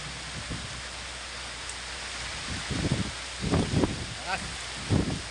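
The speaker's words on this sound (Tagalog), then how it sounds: "Mga kabatay, lakas ang hangin at ulan." Steady broadband rush of heavy rain and strong wind in a storm with a whirlwind, with bursts of a voice talking in Filipino over it in the second half.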